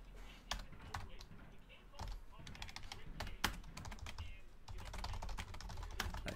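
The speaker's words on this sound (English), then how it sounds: "I type it in the chat to make it official" Typing on a computer keyboard during a 2016 Panini National Treasures baseball card box break, with steady close key clicks in short runs over a low background hum.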